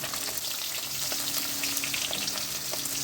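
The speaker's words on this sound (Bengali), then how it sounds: "माछगुलो देखो कत सुंदर भावे भाजा होच्छे।" Pieces of catla fish fry in hot oil, giving a loud, constant crackling sizzle with scattered pops, close up and uninterrupted by speech.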